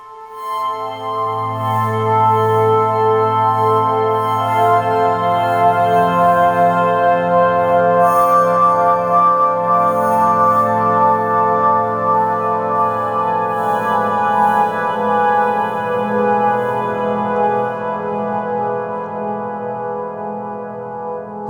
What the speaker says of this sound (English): Now that sound is the Viola glass string infinite pad.